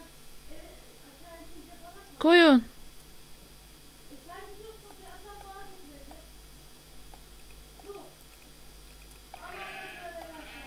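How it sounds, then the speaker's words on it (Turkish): A sheep bleats once, loud and close, in the video game Minecraft, with quiet game sounds and someone speaking in the background before and after. "Koyun."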